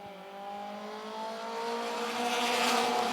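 Pro compact race cars speed around the Mt. Lawn Speedway oval, a steady engine drone that swells gradually louder as the cars approach, with a bright high-pitched whine building toward the end.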